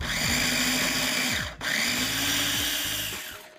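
Blender whirring as it mixes tuna with lemon juice and a couple tablespoons of olive oil: a loud, steady motor drone that dips for a moment midway, then picks straight back up.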